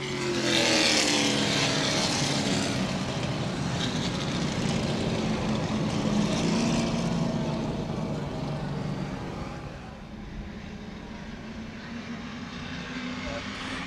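Late model race cars roar through turns 3 and 4 at Baer Field Speedway, a loud pack whose engine drone rises and falls as they pass, while an announcer calls the action over it.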